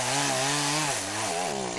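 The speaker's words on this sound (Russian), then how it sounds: "В более-менее крупных, таких как здесь, в ход идут еще и бензопилы." A petrol chainsaw revs loud and close while cutting during the clearing of a river channel ahead of spring flooding, its engine pitch sagging under load and then climbing again.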